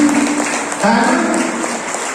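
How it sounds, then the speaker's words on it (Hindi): Clapping from a crowd at a national tour event at Jim Corbett National Park, India, rises partway through and continues steadily, with a voice talking over it. "एक उनकी ताली हो जाए, जबरदस्त ताली हो जाए।"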